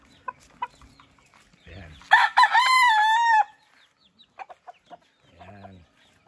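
A 10-month-old white Kelso gamefowl rooster crows once, loud and close, in a breeding yard, with scattered clucks and brief talk around the call.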